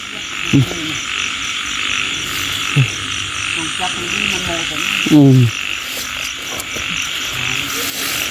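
Frogs croak outdoors after rain during a nighttime frog-catching outing, several close, loud calls at irregular intervals over a steady background of insect-like buzzing, with no talking.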